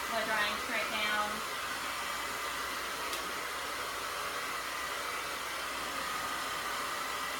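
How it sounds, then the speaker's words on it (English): Hair dryer blowing straight down onto hair during a salon blowout, a steady loud whooshing airflow running throughout, with brief talk near the start. "just blow drying straight down"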